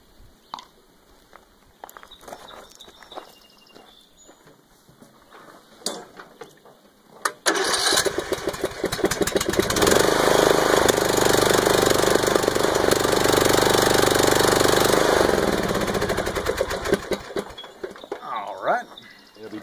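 A Troy-Bilt Pony riding lawn mower engine starts after some quiet handling sounds, then runs with a loud steady rumble for several seconds before shutting off.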